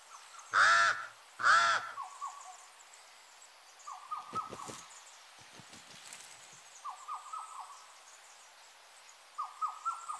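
Pied crows in Madagascan deciduous forest give two loud, harsh caws close by, followed by fainter repeated calls and scattered clicks in a quiet woodland setting.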